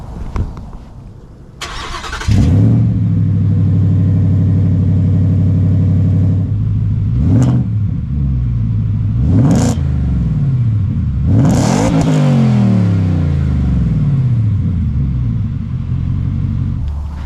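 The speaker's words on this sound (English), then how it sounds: "Now the Raptor R does have exhaust modes to make it quieter or louder." A Ford Raptor R in its loudest exhaust mode starts up close by, settles into a deep idle, then is revved hard three times with rising and falling roars before dropping back to a rumbling idle.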